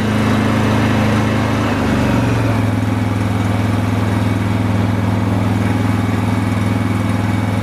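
A Honda EG2800i inverter generator runs with a loud, steady close-up engine drone; partway through, the pitch drops and settles lower as it switches to Eco Throttle.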